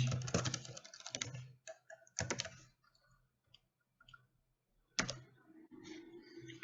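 Quick bursts of typing on a computer keyboard, close and crisp, with rapid clatters separated by short pauses and a few isolated key taps.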